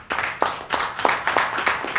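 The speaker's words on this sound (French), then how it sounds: "je vous demande de l'applaudir très fort" A few people in an audience clap slowly and sparsely for a speaker at a talk, about six distinct claps in a loose, uneven rhythm, close and moderately loud.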